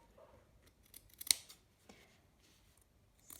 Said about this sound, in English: we have to cut the extra seam allowance and leave 2 millimeters here